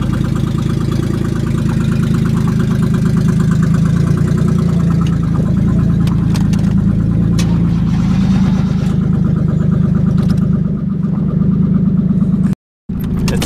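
A hotwired Honda Passport engine runs at a steady idle, loud and close with a rough knocking rattle throughout, briefly cutting out near the end.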